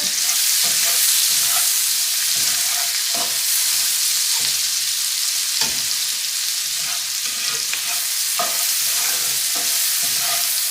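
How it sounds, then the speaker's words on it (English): A chopped ingredient sautéing in a pan for chicken Marsala, with a loud, steady sizzle broken by repeated scrapes and stirs of a utensil, close up with no talk. "I'm going to add it to my pan. I'm going to saute that a little bit."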